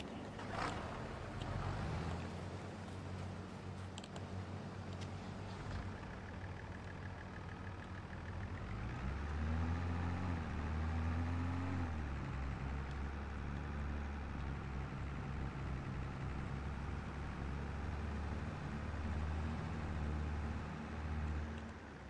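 A combine harvester engine running in Farming Simulator 22, a steady low mechanical drone and rumble that shifts pitch partway through as the machine works, continuous without talk.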